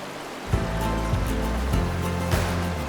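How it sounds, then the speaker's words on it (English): Steady broadband rush of the Yellowstone River flowing past a roadside pull-off in Yellowstone National Park, a continuous close wash of moving water with a few brief low thumps, no voices. "We found a little pull-off by the Yellowstone River and decided to let Nash see some water"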